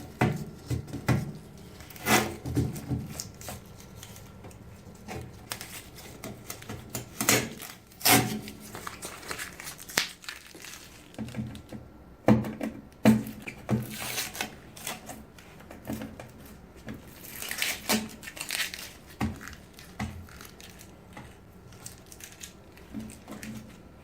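Tape and styrofoam packaging ripped off a Samsung top-load washer, irregular close tearing, crunching and squeaking bursts with brief rustles between them and no talking.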